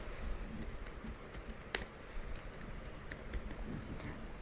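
Quick keystrokes on a computer keyboard while a teacher's name is entered into a timetable-making website, a steady run of light clicks with one sharper tap, close and alone.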